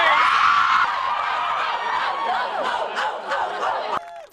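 Fans cheer and whoop for the Campolindo Cougars volleyball team, a loud sustained mix of shouts and screams from a crowd that fades toward the end.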